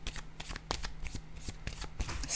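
Tarot cards are handled and shuffled alone at close range, giving quick, soft papery riffles and flicks with a few crisper taps as a card is set down, steady throughout.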